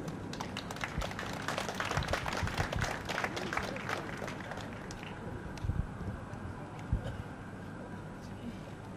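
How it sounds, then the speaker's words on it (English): Applause from a crowd at an outdoor flag-raising ceremony for the Chinese delegation at the Asian Games, a faint, sustained patter of clapping with wind noise across the microphone. "Ladies and gentlemen, please give a round of applause."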